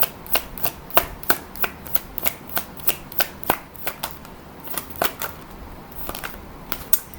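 Tarot cards being shuffled and dealt, giving a steady series of crisp, distinct card flicks and snaps at close range, roughly two per second, with no talking.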